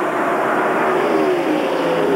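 Stock cars racing at the 1993 Splitfire Spark Plug 500, a loud continuous engine roar with a rising whine as cars go past, with a commentator talking over it.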